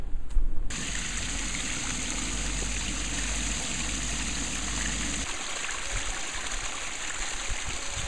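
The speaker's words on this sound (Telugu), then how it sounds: "ఇందులోకి నీరుని నింపుకోవాలి" Water pours steadily into a shallow plastic-lined Azolla pit dug in the ground, a continuous close rushing and trickling wash that lasts throughout with no talking.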